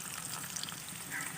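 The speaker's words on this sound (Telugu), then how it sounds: "ఇందులోనే 2 టేబుల్ స్పూన్ శనగపప్పు వేసుకోవాలి. ఇవన్నీ ఫ్రై అయ్యేంత వరకు వేయించుకోవాలి." Chana dal frying in a hot pan: a steady, close, hissing sizzle that carries on without a break.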